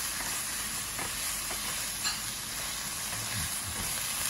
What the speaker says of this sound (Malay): Kita kacau ya.